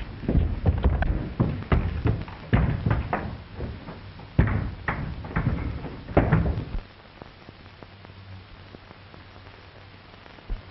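A wooden upstairs door in an old tavern is tried and rattled to test whether it is locked, giving a run of loud knocks, thumps and latch clatter over about seven seconds before falling quiet.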